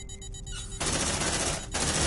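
An automated sentry gun in an alien-shooter video game opens fire, a dense rapid burst of gunfire that starts abruptly, briefly drops off, then resumes loud and continuous.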